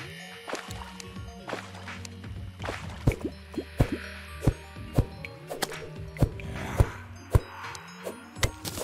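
Water draining away in the video game Terraria, a run of small plopping drips and splashy blips repeating irregularly over a busy layer of game music and effects, moderately loud.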